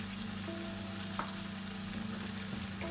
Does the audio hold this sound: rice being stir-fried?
yes